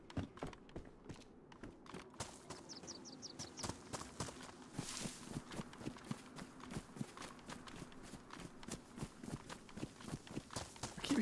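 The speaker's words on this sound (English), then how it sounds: "I keep hearing footsteps, but" Rapid, steady footsteps in the survival game DayZ, running continuously in a quick rhythmic clop throughout, fairly close and moderately loud, with faint chirps in the background.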